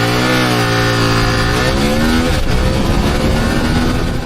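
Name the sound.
CFMOTO 1000MT-X motorcycle accelerating to 100 km/h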